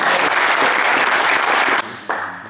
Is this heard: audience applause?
yes